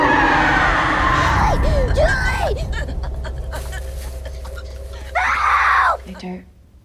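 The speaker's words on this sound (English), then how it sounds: "She hears people screaming" People scream in a tense TV episode, several rising and falling shrieks over a loud rumbling background, then another burst of screaming near the end before it fades out.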